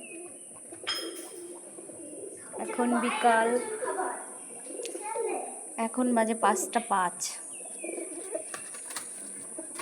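Pigeons coo softly and repeatedly while feeding at dusk, with a few scattered chirps, while a person talks nearby over a steady high-pitched background hum.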